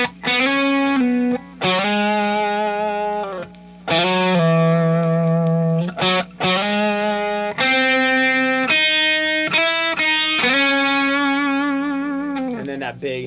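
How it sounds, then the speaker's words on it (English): Heavily distorted electric guitar plays the main riff of a song, loud sustained chords in a chopping rhythm with brief gaps, effects-laden and alone without talk. "That big heavy distortion comes in, throws off the slide, and you're into the song, to the main riff"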